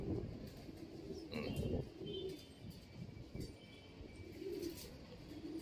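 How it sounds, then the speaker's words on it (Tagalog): Pigeons close by, soft low cooing repeated several times with a brief burst of wing flapping, all fairly quiet. "Oh, nakabalik na yung ibon."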